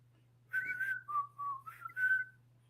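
A person whistles a short tune of a few sustained notes, rising and falling, close and clear over a low steady hum.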